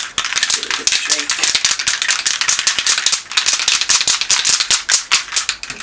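A spray can rattles hard and fast as it is shaken, the ball clacking rapidly and loudly for several seconds.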